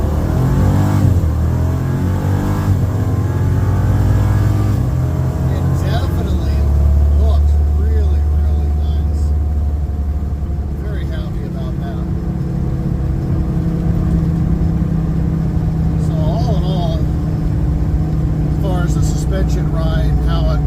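A car pulls away and accelerates on gravel, its engine rising and droning close by while someone talks over it.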